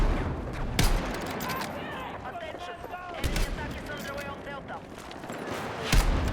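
Battlefield 6 video game gunfire, sharp shots at roughly one, three and six seconds over a busy battle din of scattered firing, with a voice talking through it.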